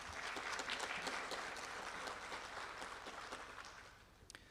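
Audience applause for the City Council at a State of the City address in Monrovia, a faint, distant wash of dense clapping that slowly fades out.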